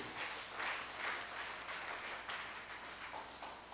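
A church congregation applauding in praise of God during a sermon, with steady, moderately distant clapping from many hands that continues without break.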